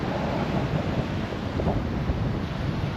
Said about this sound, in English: It is really, really windy today,